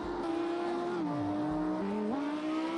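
A race car engine drones at high revs, its pitch dropping and climbing again as the driver recovers from a small mistake, with a faint tire scrub in the background.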